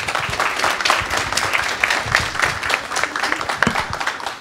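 An audience at a round-table brunch at a nursing school in Saint-Denis claps steadily, a dense, even wash of many hands throughout.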